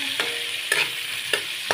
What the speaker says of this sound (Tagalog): Gisa tayong kamatis.